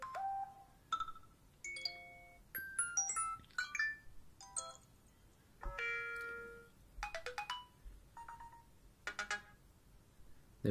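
Older classical phone ringtones played one after another: bright electronic chimes, bell-like melodic phrases and short trilling rings, each a few notes long with brief gaps between them, clear and close with no talk.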